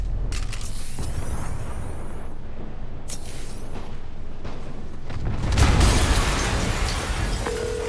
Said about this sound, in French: une explosion a...